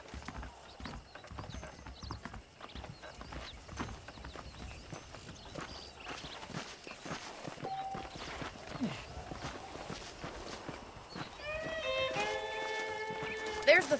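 Horses walking in the video game Red Dead Redemption, their hooves clip-clopping in a steady, fairly faint rhythm under ongoing speech, with a horse whinny near the end.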